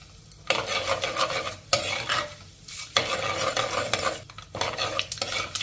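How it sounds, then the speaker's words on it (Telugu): Tempering spices (urad dal, chana dal and cumin seeds) sizzle in hot oil in repeated bursts, mixed with a spoon scraping and stirring the pan. "పోపు దినుసులు వేగాయండి"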